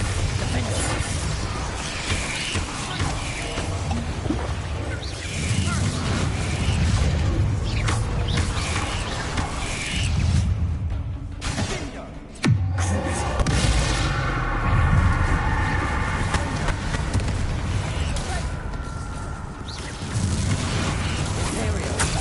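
Bombarda explosion spells detonate in Hogwarts Legacy combat, giving repeated booming blasts laced with crashing, mechanical clatter over a dense, continuous game soundscape.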